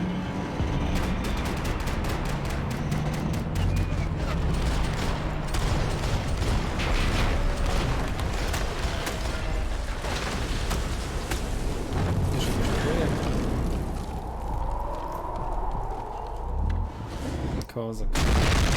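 Gunfire rattles through a shootout in the video game Max Payne 3: dense bursts of shots and booming impacts crowd together for most of the stretch, loud and close, with a rapid volley near the end.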